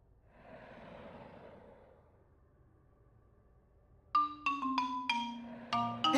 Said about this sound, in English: That sounds like monster breathing.